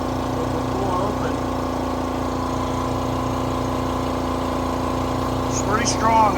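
A Vevor HPA air compressor runs with a steady, loud mechanical drone and constant hum, with a voice speaking over it near the end.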